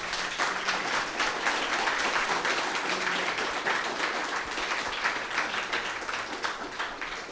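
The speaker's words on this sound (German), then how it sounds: "Einen großen Applaus!" Audience applause fills the room at the closing presentation of the Jugend hackt youth hackathon in Cologne, a dense, even wash of clapping that holds steady, then thins slightly near the end.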